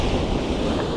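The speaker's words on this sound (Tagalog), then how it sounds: "Lalaki lang yung alon." Surf rolls in a steady, loud wash of breaking waves during a fishing outing, mixed with wind buffeting the microphone, with no voices over it.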